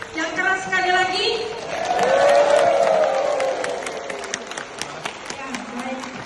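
An audience applauding again at a gathering, with clapping and crowd noise swelling in the middle under loud overlapping voices, then thinning toward the end.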